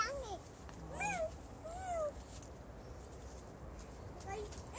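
A cat meows a few times with rising and falling cries, while children and an adult talk nearby over light background noise.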